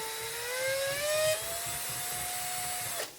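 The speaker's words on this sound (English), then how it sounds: "bring our old friend out here, the Milwaukee whisk. You start out real slow" A Milwaukee power drill fitted with a whisk spins in a pot of gravy for biscuits and gravy, giving a steady mid-pitched whir that rises slightly in pitch before cutting off near the end.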